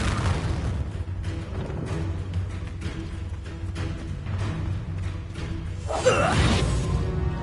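Fiery spell blasts from a Harry Potter video game, a dense run of whooshing bursts and booms over a steady game soundscape, with a louder swelling rush near the end.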